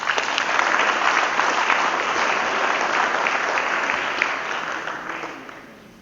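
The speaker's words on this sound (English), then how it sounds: "Give these guys a clap." A group claps for players at a basketball coaching clinic, steady dense applause that holds for several seconds before tapering off near the end.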